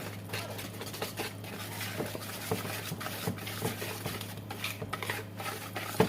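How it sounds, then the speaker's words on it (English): Salty sponge cake batter mixed in a bowl: faint, steady scraping and soft tapping of a utensil against the bowl in a quiet kitchen. "I'm mixing everything together"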